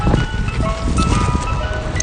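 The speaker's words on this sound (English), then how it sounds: "ice cream truck is loud." An ice cream truck plays its loud, tinkly chime tune nearby, a melody of repeated bright notes over a busy rumble of street and engine noise.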